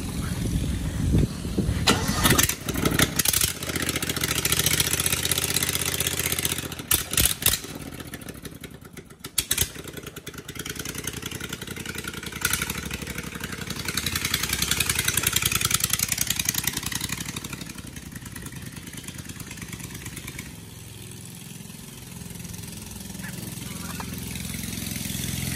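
A Honda-type GX630RH small engine bored out to 690cc and 27 hp, fitted with a 78 mm piston and steel connecting rod, runs at a steady loud idle with a dense mechanical drone, with a few sharp bursts early on and faint voices underneath.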